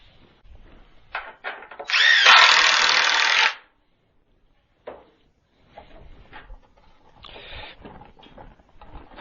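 A power drill drives a screw into a wooden board for a vertical garden planter, one loud sustained whir of about a second and a half, with scattered handling knocks and clatter before and after.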